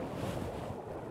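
Wind buffets an outdoor microphone during a cold fly fishing outing, a steady low rumbling roar that fills the whole short stretch with no other sound standing out.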